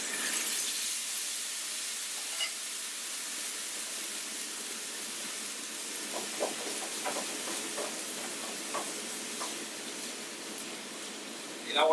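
Stock ladled into simmering risotto gives a soft, steady sizzle and hiss from the pan, with faint stirring and clinks near the end and a brief clatter right at the close.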